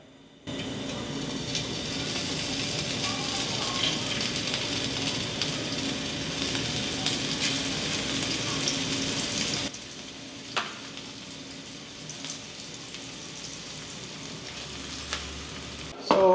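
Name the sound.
pan frying in hot cooking oil for teriyaki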